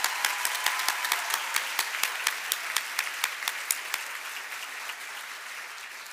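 At a Class of 2022 graduation ceremony at GEMS American Academy Qatar, an audience claps for the graduates in a steady, rhythmic unison beat that loosens into general applause and softens toward the end.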